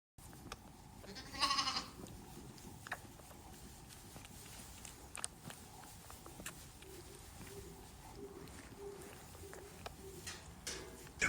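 Baby lambs on a farm bleat now and then, mostly faint and somewhat distant, with one clearer bleat early on over a quiet outdoor background with soft shuffling.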